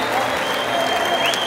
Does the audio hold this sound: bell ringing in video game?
no